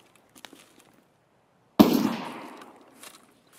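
A single suppressed gunshot fired at a bush in Escape From Tarkov, a sharp loud crack with a decaying tail after faint earlier clicks.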